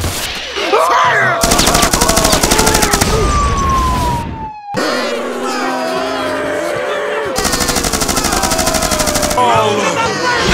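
Rapid cartoon machine-gun fire in a SpongeBob-style remix, loud repeated bursts of dense rattling broken by a sliding whistle-like tone and a brief cut to silence, with other cartoon effects in between.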